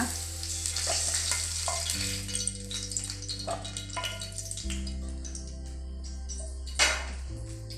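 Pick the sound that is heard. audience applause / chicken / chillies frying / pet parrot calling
chillies frying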